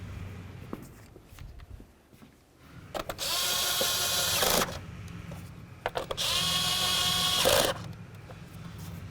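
A power tool drives mounting bolts into the engine of a 2007-12 Nissan Sentra during ignition coil work, giving two loud, close whirring bursts of a few seconds each, separated by a brief pause.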